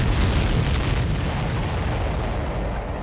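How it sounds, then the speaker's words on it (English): A supply ship explodes in the Ace Combat 7 air combat game, a loud sustained rumbling blast that fills the whole span with deep roaring low end and slowly eases off. "Did you see that explosion?"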